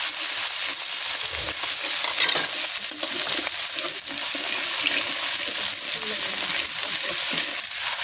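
Chopped tomato hitting hot oil with garlic and nigella seeds, a steady bright sizzle with stirring scrapes running continuously at moderate level, no voices.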